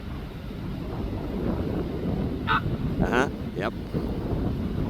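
Gusty wind of around 15 knots buffets the microphone outdoors with a steady low rumble throughout, while a goose-like honk and a brief spoken word cut through near the middle.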